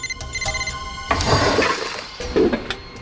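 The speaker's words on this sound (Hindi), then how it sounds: "फोन कहां बजा है?" A mobile phone rings from inside a drawer as a loud, repeating electronic tone with clattering and rustling of objects mixed in, somewhat muffled and close by.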